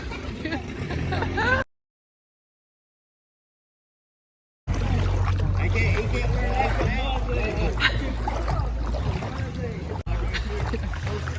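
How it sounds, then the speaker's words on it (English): A kayak is walked through shallow water at Seven Sisters Spring in Homosassa Springs State Park, with steady splashing and water movement under a busy crowd and close talking, broken by a short silent gap. "I'm just walking my kayak through the spring."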